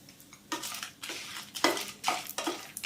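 Dried red chillies are roasted in a pan for a red chilli pickle, giving repeated scraping stirs and rattling clatter in bursts, close and fairly quiet, with no talk.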